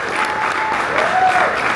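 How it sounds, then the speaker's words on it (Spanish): Audience applause during a real estate investment training session, a steady wash of clapping from the room at a fairly loud level for the whole stretch, with faint tonal sounds drifting over it. "yo creo que un aplauso"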